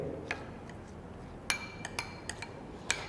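A spoon stirring ghee into rice in a pan for kheer, giving a handful of sharp metallic clinks at irregular intervals over a quiet background.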